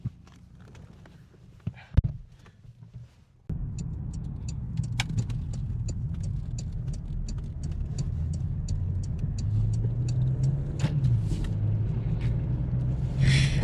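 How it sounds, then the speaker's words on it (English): A 2021 Porsche Macan S rumbles along on the road, a steady low engine and road drone that starts after a few quiet seconds of faint handling noises and continues evenly at moderate level. "we're gonna take this car for a spin and see if it handles just like a 911"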